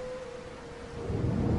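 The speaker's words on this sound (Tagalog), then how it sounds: "bumuhos na ang napakalakas na ulan" Heavy rain pours down at a bus terminal, a dense steady hiss with a low rumble of thunder swelling toward the end.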